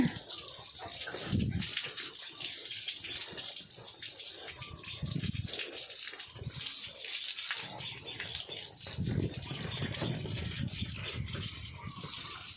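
A garden hose sprays water continuously while a pig is bathed outdoors. The steady, rushing gush shifts in intensity as the stream moves across the animal, with faint voices in the background.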